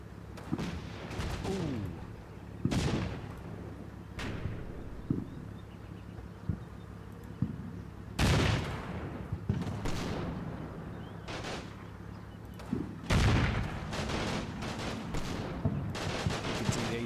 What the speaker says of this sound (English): Might stop that artillery.